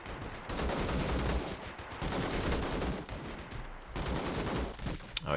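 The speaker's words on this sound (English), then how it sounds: "Quite a shootout now between those forces there." Sustained gunfire from a shootout between infantry forces around a tank in a war video game, with dense overlapping bursts of rifle and machine-gun fire coming in waves and brief lulls between volleys.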